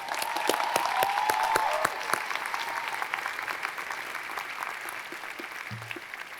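Applause from a commencement ceremony audience, steady broadband clapping that swells early and then holds at an even level throughout, with a faint voice briefly near the start.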